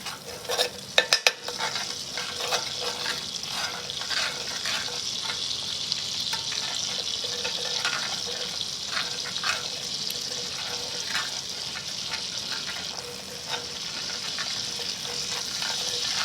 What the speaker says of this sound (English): make sure we got this down really low because we don't want to burn our butter